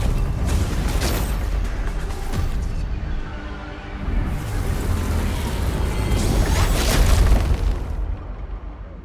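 A target anchor is destroyed in Arknights Endfield, giving a loud, sustained rumbling blast with crackling bursts and booming swells over about nine seconds, with no voices.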